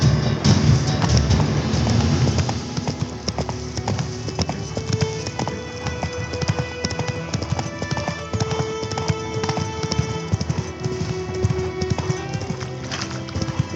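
Roach the horse trots in Witcher 3, a steady, close run of hoof clip-clops that never lets up, with game music and ambience layered beneath.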